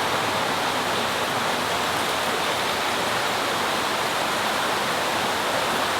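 Heavy running water pours steadily in koi breeder tanks in Japan, a loud, constant rushing wash with no break and no voices.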